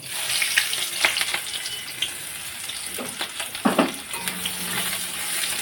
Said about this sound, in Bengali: আমার তেলটা পটল ভাজার তেলটা বেশি আছে আমি এতে পেঁয়াজটা দিয়ে দেব